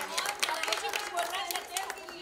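Light clapping for the media at an on-set cake-cutting celebration marking three years of a TV show, a brief patter of a few hands, fairly quiet, with people talking over it.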